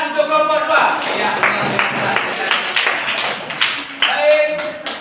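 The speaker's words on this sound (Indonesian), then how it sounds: "tepuk tangan untuk kelompok 2" Classroom applause for a student group, a burst of many hands clapping and tapping in an indoor room, mixed with voices and brief chatter.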